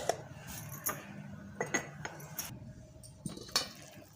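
A metal lid clanks onto a cooking pot of green chickpea rice (harbhara bhat) with ghee, giving several sharp, close knocks and rattles over quiet kitchen background, with no talking.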